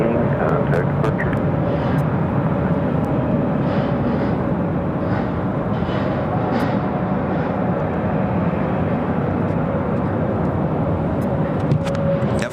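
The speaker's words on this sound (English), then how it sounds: "Flight was heading to Dallas Fort Worth, Texas on an A321, American Airlines Flight 2719" American Airlines A321 jet, flight 2719, at Phoenix airport, a constant loud engine rumble and roar holding steady throughout, with a voice talking over it.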